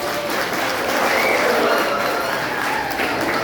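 Audience clapping at a college dance celebration in Bangalore, a sustained, even wash of many hands applauding steadily throughout, fairly close and with no break.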